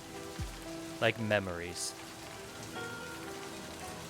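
Steady rain falls throughout a creepy narrative video game scene, a soft continuous patter under a short spoken line and a few brief game sound effects.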